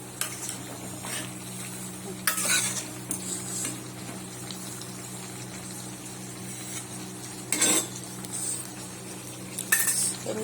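A vegetable curry with a little liquid left in it is stirred in a kadai pan, giving a soft steady sizzle with scraping spoon strokes and clinks. A few louder bursts of scraping come close and alone, with no talk.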